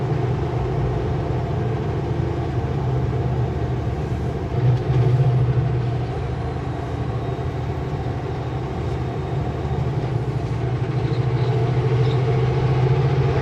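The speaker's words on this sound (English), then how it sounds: "Full logging truck coming out." A full logging truck works down a steep 8% mountain grade, its engine and air brakes a steady heavy rumble with a sustained hiss, swelling briefly midway and again near the end.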